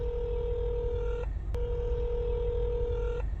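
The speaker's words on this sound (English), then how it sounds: "The phone rings endlessly with no voicemail." A phone line ringing with no answer, two long steady ringback tones separated by a brief pause, clear and continuous over a low background hum.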